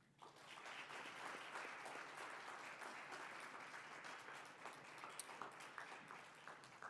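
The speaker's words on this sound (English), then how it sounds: "Please give a round of applause to this year's Student Organization Member of the Year, Jacqueline Dooley." An audience applauds at an awards ceremony, a dense, steady wash of clapping that holds for about seven seconds without voices.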